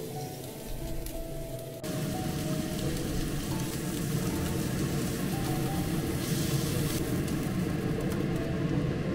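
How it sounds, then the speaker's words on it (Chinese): Lamb chops sizzle in hot oil in a pan during a second frying, a steady dense crackle that swells louder after a couple of seconds and holds, with no talking. "回锅煎第二遍"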